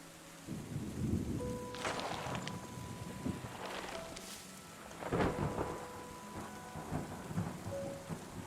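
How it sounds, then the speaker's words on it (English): Rain and thunder from a post-apocalyptic factory city-builder video game: steady rainfall hisses throughout while low rumbles of thunder roll in and swell, with faint tonal game sounds layered underneath. "The rain effects are just perfect."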